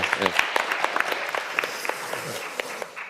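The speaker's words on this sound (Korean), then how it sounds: "박수 보내주십시오" An audience at the Seoul Digital Bio City conference claps for a questioner, a short burst of scattered, distinct hand claps that thins out toward the end, with faint voices underneath.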